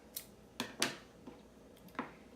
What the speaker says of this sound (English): now I will take my scissors and cut a short tail.